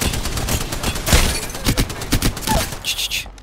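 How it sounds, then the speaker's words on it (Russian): Rapid bursts of gunfire in the Apex Legends video game, with loud, close shots arriving in quick volleys. "отцовские выстрелы тебе демонстрирую"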